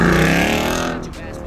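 A GT3 RS sports car, part of a supercar run alongside a lava orange Turbo S, drives past with a loud engine roar that fades away over about a second, while people talk over it.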